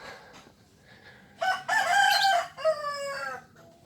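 A rooster crows loudly in a village, one full cock-a-doodle-doo rising and breaking off, with faint clucks and quieter fowl noises before it.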